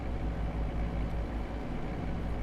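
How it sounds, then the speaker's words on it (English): Heavy mining truck hauling an oversized special-transport load in American Truck Simulator, its engine a dense, steady low drone losing revs under the weight, loud and continuous with no talk. "You can just hear the engine slowing down there a little bit."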